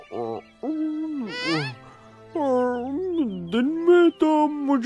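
A cartoon owl gives a series of drawn-out, pitch-bending hoots with short pauses between them, loud and close and with no other sound around them.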